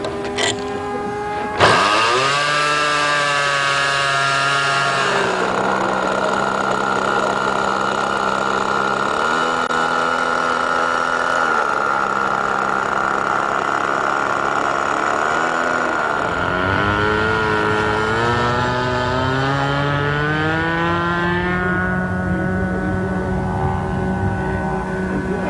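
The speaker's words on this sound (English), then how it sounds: "we'll get the engine started here, Frank." A model airplane's small glow engine starts with a sudden burst and then runs loud and steady, its high buzzing pitch shifting up and down as the throttle changes, heard close at an outdoor park.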